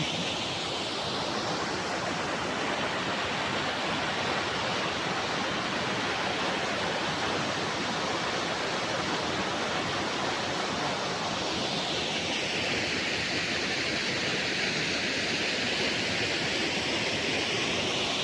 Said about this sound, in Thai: ทางนี่เป็นทะเลจ้ะพี่น้อง